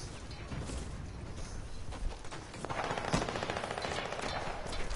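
Video game gunfire rattles through continuous automatic bursts of rapid shots at moderate loudness. The bursts grow denser and steadier in the second half, with no talking over them.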